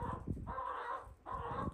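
A chicken calling outdoors with two drawn-out, harsh squawking calls separated by a brief gap, close and fairly loud, with no talking.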